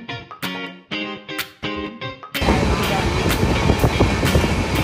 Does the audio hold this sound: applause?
no